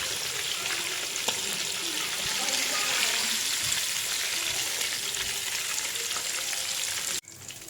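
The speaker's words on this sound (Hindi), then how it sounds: "जो बाकी बचे हैं उनको हम फ्राई कर लेंगे।" Chicken pieces fry in hot oil, a dense, steady close-up sizzle that holds evenly throughout and cuts off abruptly near the end.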